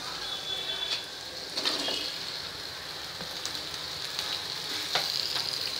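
Potatoes sizzle in hot oil with salt and turmeric for a traditional batata bhaji, making a steady close hiss with occasional soft crackles and light stirring, without talk.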